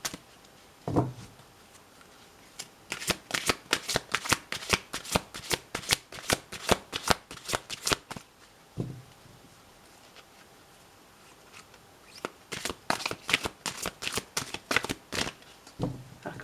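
Oracle cards of the archangel Michael being shuffled by hand in rapid crisp riffling bursts, two long runs of quick papery flicks separated by short pauses and soft thumps, close and fairly quiet with no talking.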